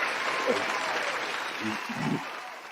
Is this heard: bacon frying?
no